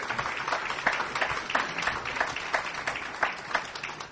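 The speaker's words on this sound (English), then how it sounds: "That's worthy of a big round of applause." An audience at a foundation's report presentation applauds, a dense, steady wash of many hands clapping together, moderately loud and sustained throughout without a break.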